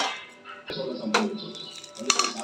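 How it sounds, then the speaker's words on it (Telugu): Cooked rice and fried coconut are stirred together in a pan for a coconut rice temple offering, with a metal spoon clinking and scraping against the pan in quick irregular knocks. "ఇప్పుడు రైస్ వేసేసుకొని ఒకసారి కలుపుకుందామండి"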